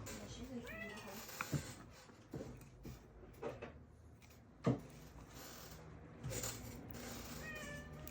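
A voice imitates a cat, giving several rising meows spread across the clip amid quiet room noises and knocks.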